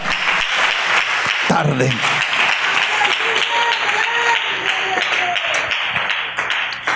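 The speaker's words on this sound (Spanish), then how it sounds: "Dele ese aplauso al Señor en esta hermosa y linda" A church congregation applauds steadily throughout, a dense wash of many hands that stays loud, with a voice speaking over the clapping.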